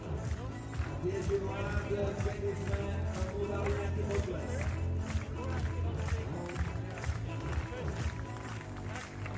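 Stadium crowd at a high jump meeting in Košice claps rhythmically as Vadim Kravchuk begins his approach, a dense, steady wash of applause and murmur spread over the whole stretch.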